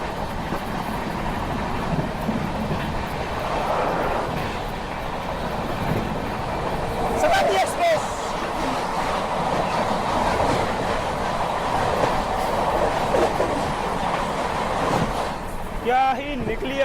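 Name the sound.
Amrit Bharat Express crossing Swarna Shatabdi Express train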